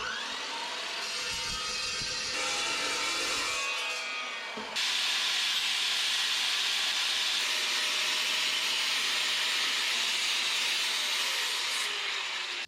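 A 3/8 inch steel plate being cut to 3.5 inches long for a 1963 Loadstar tilt bed build, a steady loud hissing, grinding cut that starts rough, then runs continuous and close until it abruptly stops.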